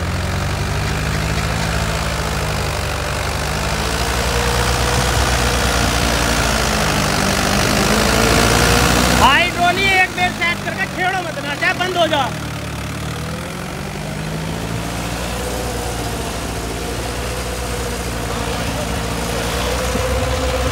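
A Mahindra 575 XP Plus tractor engine with a cultivator runs steadily at close range, a low rumbling drone throughout, with a brief rougher revving burst midway and voices talking over it.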